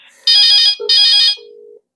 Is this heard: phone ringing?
yes